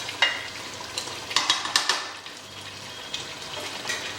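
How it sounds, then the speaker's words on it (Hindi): Mutton seekh kebab sticks frying in ghee and stirred gently, with soft sizzling and several light scraping clinks in quick clusters, close and moderately loud. "बहुत हल्के हाथ से इसको हिलाना है, जैसे कि हमारी स्टिक जो है टूटे नहीं।"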